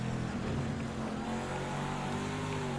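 A race car engine in Project Cars 2 rolls out onto the Willow Springs track in rainy conditions, a steady loud drone with shifting engine tones, rising slightly in pitch, with no talking.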